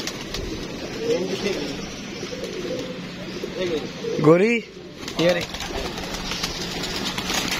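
Pigeons, including a captured female and a released male, coo in soft rolling phrases alongside a louder throaty call in the middle, while someone speaks over them nearby.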